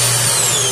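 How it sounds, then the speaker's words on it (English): An RV's built-in central vacuum unit in a Surveyor 260BH travel trailer runs with a steady, loud, close whooshing roar as dirt is swept into its floor inlet, a continuous motor whine and no voices. "Pick this up, sweep all your dirt into there, and it sucks into the vacuum."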